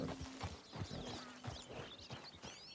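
A horse in Red Dead Redemption II walks with a clear, rhythmic clip-clop of hooves at close range, with a few faint background sounds around it.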